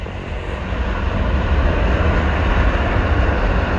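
A loud, steady low rumble of a train rolling past close by on a 100-meter bridge, swelling slightly and holding without talk.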